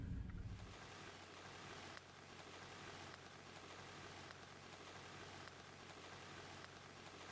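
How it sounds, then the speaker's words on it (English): Steady rain falls throughout, a dense, even patter of drops on surfaces with no voices, heard as part of a music video's soundscape. "I love the sounds of rain."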